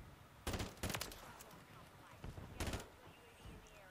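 FR 556 rifle fire in Call of Duty MW3: short bursts of sharp, cracking shots, two quick bursts early and another later, fairly close over quiet game ambience.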